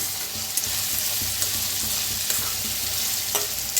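Peanuts dry-roasting in a pan for a spicy village-style varanphal dish give a steady, close sizzle, with light scraping from stirring running through it.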